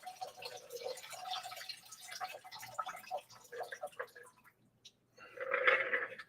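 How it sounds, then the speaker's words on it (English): Water drains from cooked food in a kitchen as a faint, uneven trickle with scattered drips, then pauses briefly before a louder gush of pouring liquid near the end. "And then again, you want to drain them"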